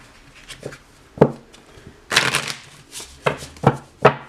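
Tarot cards are shuffled by hand, a few quick riffling and slapping bursts separated by short pauses, close and clear with no talk.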